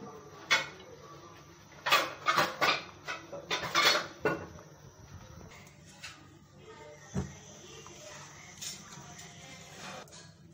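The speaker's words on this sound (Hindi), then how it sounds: "और इसको कंटिन्यू चलाना है ताकि लम्स ना पड़ जाए" A spoon stirring white sauce in a pan for chicken lasagna, giving clusters of close metallic scrapes and clinks, then quieter occasional taps over a soft background hiss.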